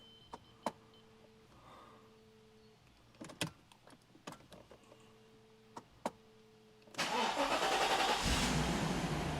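A Mercedes R129 roadster starts after its injectors have been replaced. Scattered clicks and ticks come first, then the engine catches and settles into a loud, steady idle that runs to the end.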